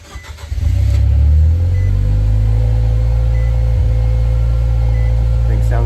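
A Nissan Juke fitted with a Stillen mid pipe cold-starts, with a brief crank before the engine catches into a loud, deep, steady idle rumble, recorded close.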